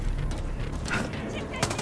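Dense gunfire from the video game Far Cry 6, a loud, steady barrage of shots across a short stretch under a continuous game soundscape.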